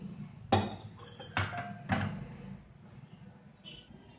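Rice cooked with dal is stirred in a pot with melted jaggery for sweet pongal, giving three distinct scraping clatters of a spoon against the pot, followed by quieter shuffling and no speech.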